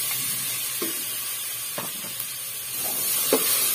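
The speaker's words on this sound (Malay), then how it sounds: "kita tumis ni sampai bahan tumisan kita ni dia layu dan naik bau ya" Lemongrass, garlic, shallots, ginger and tomato sautéing in hot oil give off a steady, moderately loud sizzle, with a few brief stirring scrapes and clicks scattered through it.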